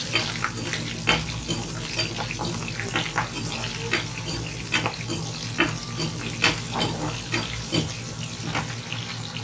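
Small onions and vadagam stir-fry in hot oil for Inji Kuzhambu ginger gravy, a loud, steady crackling sizzle broken by repeated scraping and clanking strokes of a spatula against the pan.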